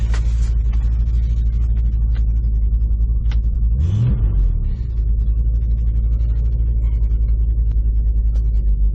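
A 1969 Ford Mustang's engine rumbles steadily at idle, with a brief rise in pitch and a thud around the middle as a gear change is attempted; no talking.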